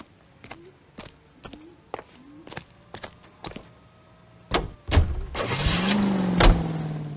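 A car in the video game L.A. Noire: a run of footsteps and thumps, then an engine turns over and settles into a steady, loud running drone to the end, with no talk.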